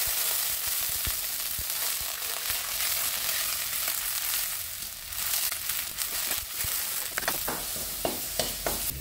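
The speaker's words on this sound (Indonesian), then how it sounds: "Kita tumis sampai airnya susut, lalu dia bumbu ini tergoreng sama tadi minyaknya itu ya" Spice paste sautéing in oil beside half-cooked chicken for an Indonesian ayam gagape, a steady close sizzle broken by scattered clicks and scrapes of stirring, with no voices.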